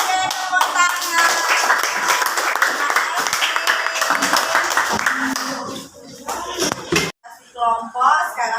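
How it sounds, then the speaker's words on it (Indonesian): A sixth-grade class of children clapping hands together in a classroom, rapid dense clapping sustained for several seconds with children's voices mixed in, then breaking into scattered claps and chatter. "Oke, tepuk tangan."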